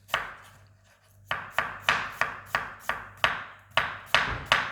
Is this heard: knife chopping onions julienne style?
yes